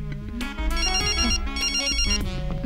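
A mobile phone ringtone plays a melodic electronic tune continuously and fairly loud for the whole stretch, with no talking over it.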